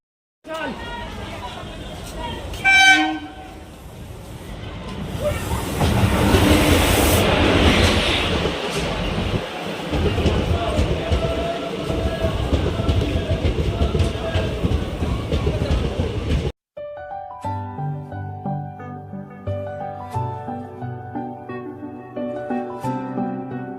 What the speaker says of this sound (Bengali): স্টেশনে ট্রেনের অপেক্ষা করছে যে ট্রেন কখন আসবে